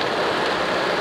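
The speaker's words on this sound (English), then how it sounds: "Just got back to the car, and it is like just pouring out there" Heavy rain pours down outside a parked car, a dense, loud and unbroken hiss of drops pounding the surface, with no voices.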